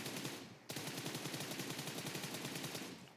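Rapid automatic gunfire in a shooting video game during a close-quarters fight, a short gap followed by a sustained, steady burst of rattling shots at close range.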